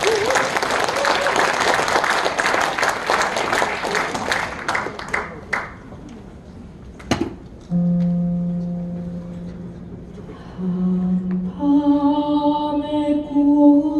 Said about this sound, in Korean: 뜨거운 격려의 박수 부탁드리겠습니다.